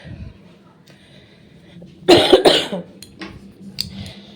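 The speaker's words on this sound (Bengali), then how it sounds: "খুব কাশি হচ্ছে কাশির সিরাপ খেতে হবে" A person coughs hard indoors, a sudden loud burst of two or three harsh coughs close by, followed by quieter rustling and faint background noise.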